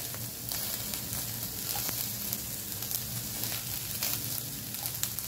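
Green chillies, peas, cumin and a pinch of asafoetida crackle and sizzle in hot oil for matar cutlets, a close, continuous frying hiss with little pops and stirring.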